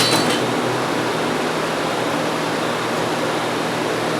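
Acura 3.2TL radiator fan motor running after being tapped, a steady broadband whoosh of moving air with a low hum, constant and close throughout with no talking.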